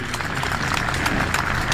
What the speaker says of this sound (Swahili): Asante sana, tuongeze makofi tafadhali.